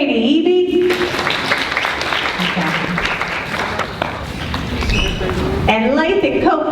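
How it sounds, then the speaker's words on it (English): A crowd applauds fifth grade students at an elementary school celebration, sustained clapping of moderate loudness lasting several seconds, with voices speaking at the start and end. "So I give them a round of applause."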